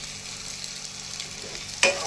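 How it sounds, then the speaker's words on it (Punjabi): A tadka for potato curry frying in a pan, with a soft continuous sizzle and a sharper burst of crackle and stirring just before the end. "ਤੜਕਾ ਸਾਡਾ ਭੁੱਜ ਕੇ ਤਿਆਰ ਹੈ"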